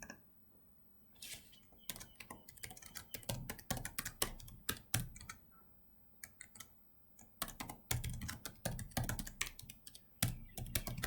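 Password being typed on a computer keyboard while a Windows 10 client is set up: bursts of close, crisp key clicks in irregular runs, separated by brief pauses, with no talking.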